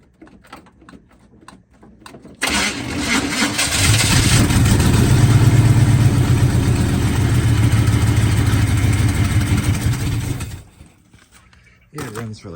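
A 1980 Chevrolet K30 Squarebody truck engine cranks, catches and runs loudly with a steady mid-range rumble for several seconds before cutting out, with brief quiet before and after.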